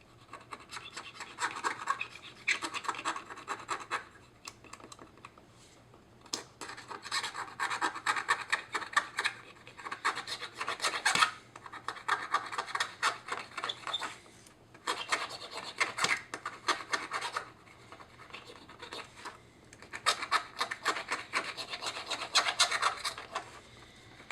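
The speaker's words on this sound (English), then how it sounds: "Get yourself a knife like this. And scrape away." A knife scrapes away at a BMW X5 540i MID display during repair, making rasping, scratchy strokes in repeated bursts separated by brief pauses, close and fairly loud.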